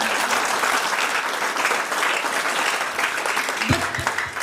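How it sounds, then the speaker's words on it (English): Audience applause from a crowd gathered for an academic awards talk, dense sustained clapping throughout that thins slightly near the end, fairly close and loud. "before you all just start clapping hands"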